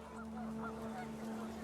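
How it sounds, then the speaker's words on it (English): Panicked geese honk in the video game What Remains of Edith Finch, a few short calls rising over a steady low hum and windy wash. "panicked geese appeared and quickly went"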